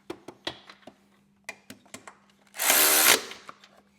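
A power tool tightens a bolt on the gas tank of a 2015–2021 Harley CVO Road Glide, a short, loud whirring burst of under a second following a series of faint clicks and taps.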